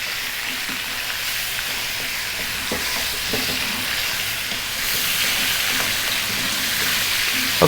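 Chicken wings sizzle steadily in a hot pan over lively heat for Chinese-style oyster sauce chicken, a continuous bright hiss with occasional clinks of stirring and no talk.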